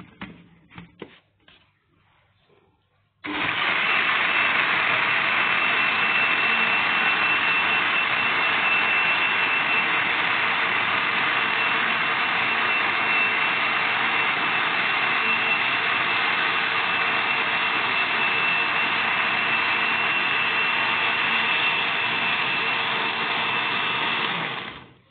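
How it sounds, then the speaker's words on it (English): An electric blender grinds egusi seeds with dry pepper, starting abruptly after a few seconds of faint sound and then roaring loudly and steadily at close range for the rest of the clip. "Okay guys, I'm coming to blend my egusi now."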